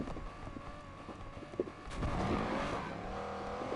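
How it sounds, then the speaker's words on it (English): In the racing game Need for Speed Unbound, a car's engine revs in neutral with the e-brake held, a whining, rising engine note with a brief pop, swelling louder toward the end. "put the car in neutral by holding the emergency brake and you rev the engine"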